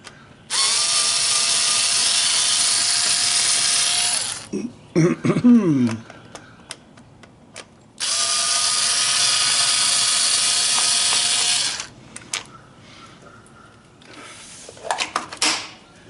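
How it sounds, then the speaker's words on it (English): A power screwdriver or drill backs out the Phillips screws on a Honda Shadow Spirit 1100 fuse box cover in two long, loud whirring runs, with brief clicks and rattles of parts handled between them. "it can be opened, hopefully, by removing these two Phillips screws here"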